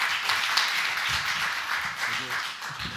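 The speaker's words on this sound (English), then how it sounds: "Let's have a round of applause." Moderate clapping from the audience at a youth debate on climate action, steady and fairly close, with a faint murmur of voices beneath it.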